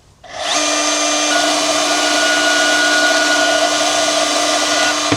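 Power saw cutting through a workpiece with cutting fluid applied, spinning up quickly and then holding a steady, loud whine with bright tonal ringing, alone without talk.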